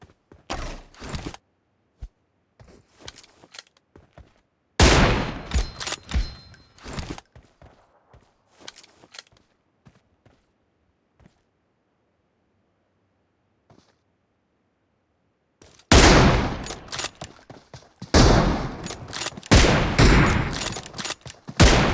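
Gunfire in the video game PUBG: a short volley, then a loud dense burst, a long near-silent stretch with faint shuffling, then a sustained heavy barrage of rapid shots at the end.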